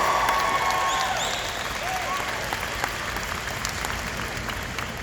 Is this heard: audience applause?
yes